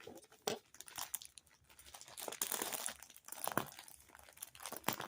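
The inner wrapping layer of a fragile, special-handling mail package being opened by hand: close, irregular crinkling and crumpling of wrap, with sharp tearing bursts and pauses, and no talking.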